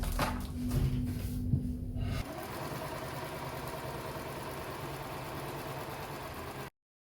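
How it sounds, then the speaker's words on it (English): A sewing machine stitching along a line, back and forth at each end, gives a steady, fairly quiet motor whir that starts a couple of seconds in and then stops abruptly. "I sew over this line, go back and forth at the beginning and end."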